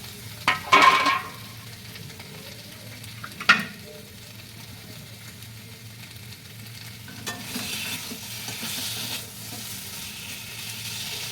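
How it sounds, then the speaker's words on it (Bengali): Potatoes are sautéed in a pan on a gas flame, a low steady sizzle with scraping stir sounds and a few sharp utensil clatters near the start. "ভাজাটা মানে কষাটা ঠিকঠাকভাবে করতে হবে।"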